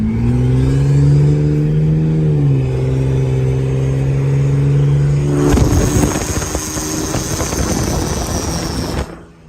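A stock 1995 Ford Taurus engine drones steadily with rising pitch as it accelerates down a street, then shifts into a harsher, broadband roar with a high whine before cutting off abruptly, loud and close.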